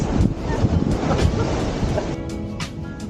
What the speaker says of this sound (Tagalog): Ayan, lalaki ng alon, grabe.